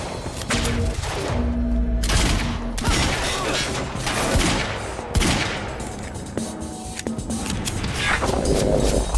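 Heavy gunfire in Quantum Break, with loud bursts of automatic fire, thuds and crashes rattling on and off across several seconds while voices shout over the fight.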